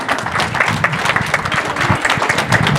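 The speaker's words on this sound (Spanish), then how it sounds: "Un aplauso para Marcos" An audience claps together in loud, sustained applause for a few seconds, the dense clatter of many hands filling a room.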